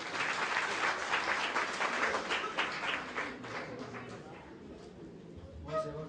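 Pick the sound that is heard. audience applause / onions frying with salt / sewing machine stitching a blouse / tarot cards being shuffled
audience applause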